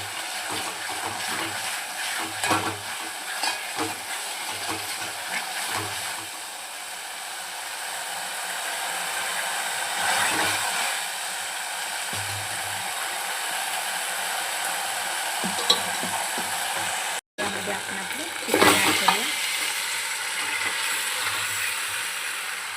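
Chicken sautéing in a pan for village-style dry chicken sukka gives a steady, close hiss with a few louder bursts of sizzle and scraping as it is turned. No one speaks.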